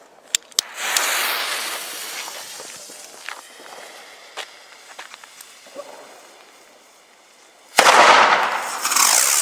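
A Pyro-Art Dynamit Böller D firecracker goes off outdoors. A few sharp snaps and a crackling fizz come first, then a loud blast near the end that rings out under scattered crackles.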